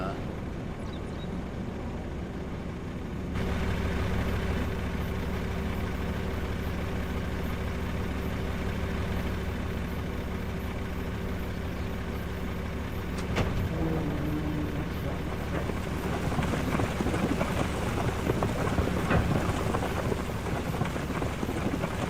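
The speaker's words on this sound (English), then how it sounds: "that even sounds like potatoes coming out" Potatoes pour out of an unloading truck in the Farming Simulator 25 game, a steady rushing, rumbling tumble over an engine drone that grows denser and rougher toward the end, with speech over it.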